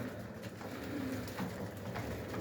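Soft, repeated cooing of pigeons, low and throaty, heard faintly over a quiet background.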